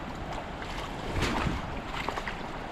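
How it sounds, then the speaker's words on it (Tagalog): Broad steady wash of flowing water from a swift river current among islands, continuous and fairly close, with no voices. "Ito yung mga agos."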